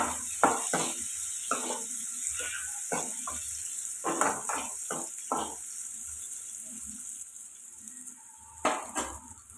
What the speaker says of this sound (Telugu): కట్ చేసి పెట్టుకున్న ఆనియన్స్ కూడా వేసుకోవాలి ఇవి బాగా ఫ్రై అయ్యేలాగా కలుపుకుందాం